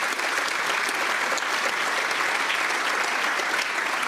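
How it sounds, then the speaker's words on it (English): Sustained applause fills a session of the United States Congress, a steady dense wash of many hands clapping for about four seconds, close and even in level with no voices standing out. "Does their applause come out of my time?"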